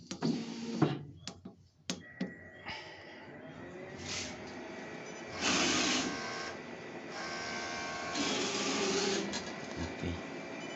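A HONJET sublimation printer runs a printhead cleaning cycle: mechanical clicks and knocks give way to whirring motor passes that rise and fall in bursts, fairly close and moderately quiet.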